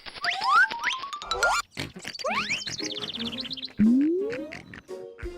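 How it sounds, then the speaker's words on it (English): Cartoonish pig oinks and squeals for a Three Little Pigs fairy tale, a quick run of bright, sliding squeaks and grunts in several bursts, heard alone without narration. "The 3 brothers decided to build their own houses."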